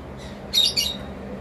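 Lovebirds give two quick, sharp, shrill squawks close by over a quiet room background.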